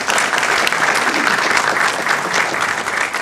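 Audience applause fills a film festival Q&A in Los Angeles, a dense, steady wash of clapping from many hands, loud and close, with faint voices mixed in.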